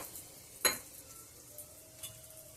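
Sugar stirred into vermicelli pulao frying in a pan: one sharp clink and scrape near the start, then a faint, low sizzle with soft stirring, quiet and close.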